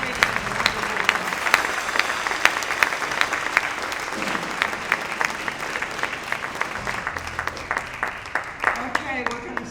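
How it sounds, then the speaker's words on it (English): Audience applause fills a jazz hall of fame ceremony in Cincinnati, steady dense clapping from a crowd that carries on throughout, with a few voices faintly mixed in. "So please give her a round of applause."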